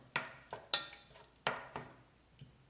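Semi-frozen onions frying on low heat in a pan for a vegan cabbage dish, heard as a quiet sizzle broken by several sharp clatters and scrapes of stirring at irregular intervals.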